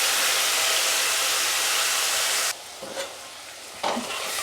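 Cumin, coriander and turmeric powders with ground tomato paste hit hot oil in a pan for potol dalna, giving a loud, steady sizzle that drops sharply after about two and a half seconds to quieter frying with faint clinks.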